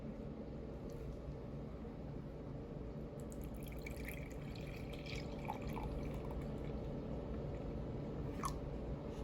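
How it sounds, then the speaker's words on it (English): Milk pours from a glass measuring cup into a bowl in a home kitchen, a soft, close trickle and dribble of liquid with a few faint drips, heard alone against quiet room noise. "let's pour the milk into the bowl."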